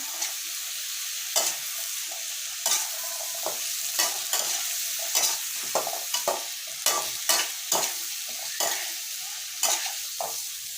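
Sweet and sour vegetables (bell pepper, cucumber, pineapple, onion and tomato) stir-fried in a pan: a constant sizzle underlies rhythmic scraping and clacking strokes of a spatula, about one or two per second, close and clear without speech.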